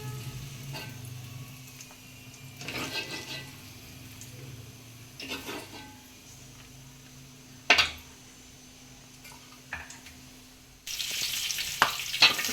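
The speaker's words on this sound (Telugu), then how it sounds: "ఇప్పుడైతే పచ్చిమిర్చి ఫ్రై చేసుకోవాలి" Green chilies fry in a pan for a chutney, a faint continuous sizzle broken by a few sharp clinks and scraping stirs, louder frying noise toward the end.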